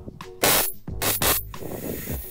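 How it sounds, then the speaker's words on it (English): Hairspray is sprayed into a homemade potato cannon as fuel, heard as two loud, close aerosol hisses, each lasting about a third of a second, followed by softer mechanical handling sounds. "We spray some hairspray in there as the fuel"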